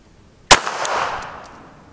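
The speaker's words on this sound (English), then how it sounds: "So this is going to be the 380 into the stove" A single sharp .380 pistol shot fired into a stove, one loud close crack followed by a brief metallic ring and a fading rumble of echo.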